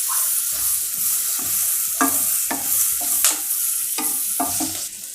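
Onions sizzle steadily in a hot pan while a utensil stirs and scrapes at intervals, close up with no talking.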